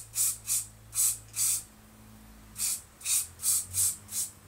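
Hairspray sprayed onto a Suzuki K1 GSX-R750 motorcycle handlebar before fitting new grips: nine short aerosol hisses, four in a quick run, a pause, then five more, close and fairly loud with no talking.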